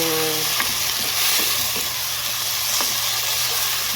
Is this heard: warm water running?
no